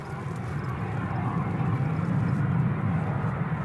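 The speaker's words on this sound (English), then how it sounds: "It's doing a charter flight here, the 737-300." A Boeing 737-300 on a charter flight from Leeds at Newcastle Airport during wet, windy storm weather, its jet engines a loud, steady broadband roar that swells slightly over the few seconds.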